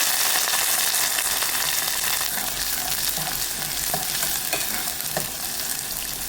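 Shallots, dried chillies and curry leaves sizzle in hot oil with a steady crackling hiss, occasional scrapes and taps of a spoon stirring the pan; no voices.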